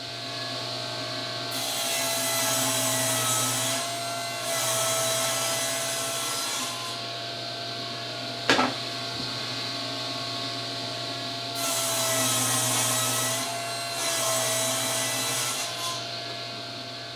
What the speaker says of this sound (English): I'll just cut them from this piece of plywood.